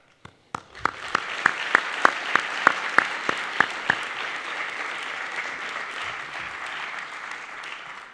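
Audience at a student award ceremony claps, starting with a few loud, sharp individual claps and then swelling into sustained, even applause that slowly thins toward the end.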